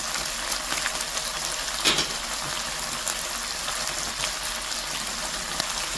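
Shrimp frying in hot oil in a pan for yakisoba, a steady dense sizzle with continuous crackling and spitting, one sharper pop near the start, close and even throughout.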